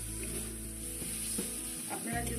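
Masala fries in oil in a pan for a Bengali paapda fish curry, giving a steady close sizzle broken by occasional stirring scrapes.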